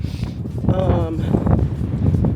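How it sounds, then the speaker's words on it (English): Gusty wind buffets the microphone with low rumbling bursts, and a voice briefly sounds over the noise. "Oh, it's windy."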